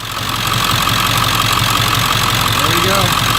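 A 1999 Ford F-350 engine with a freshly fitted dry belt idles steadily up close, a continuous even rumble with no squeal, holding the same level throughout.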